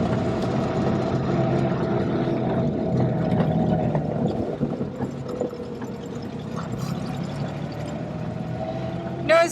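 A Fiat 1200 Cabriolet, the Pininfarina-styled classic sports car, drives with a steady, fairly loud engine and exhaust drone that holds a continuous tone. It swells briefly at the very end.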